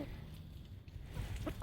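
A rooster kept alongside chickens and ducks makes low, close clucking sounds over steady farmyard background noise, with a couple of brief sharper calls near the end.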